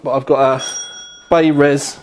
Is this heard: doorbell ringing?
yes